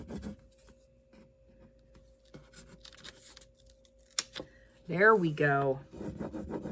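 Faint, intermittent rubbing and scratching by hand on a vintage sewing machine case, soft strokes scattered across the stretch, with a brief spoken phrase near the end.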